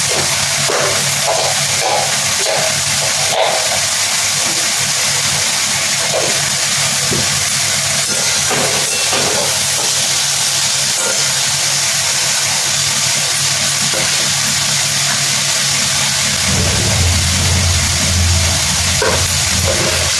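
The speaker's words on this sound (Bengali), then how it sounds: "একটা ছোট টেবিল ফ্যান আছে ওটাকে চালিয়ে নিয়েছিলাম আর ওটা এরকম প্রচণ্ড আওয়াজ হয়" A small electric table fan runs loudly with a constant broadband whoosh and hum throughout. Faint clatter and other household sounds are mixed in.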